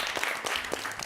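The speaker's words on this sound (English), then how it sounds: "Round of applause" Brief clapping from a small group, a handful of separate hand claps spread over about a second, fairly quiet and close.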